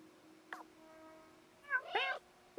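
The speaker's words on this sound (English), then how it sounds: "I'm throwing in meows between every bit of dialogue" A cat meows in the video game Stray, a short call followed by a louder, longer double meow over a faint background hum.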